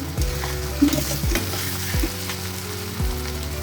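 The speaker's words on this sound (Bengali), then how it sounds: "পেঁয়াজটা আমি হালকাই ভেজে নিই" Onions lightly frying in a pan for a yogurt katla fish curry: a steady close sizzle with a low hum and a few soft stirring knocks, no voices.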